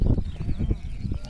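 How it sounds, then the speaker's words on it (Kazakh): Crossbred Kazakh sheep bleat close by in a quick run of short, overlapping calls that form a steady, dense flock chorus. "Көбісі Гісар мен Еділбай шатыс қазақ қойлар екен."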